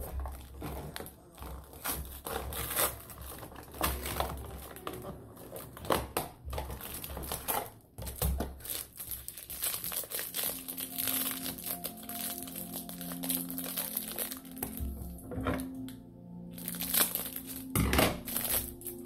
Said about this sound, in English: we also got a top hanger. So I'm gonna go ahead and open that.